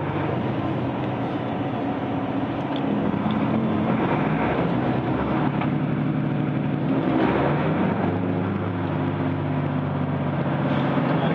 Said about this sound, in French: Et là on n'a que le moteur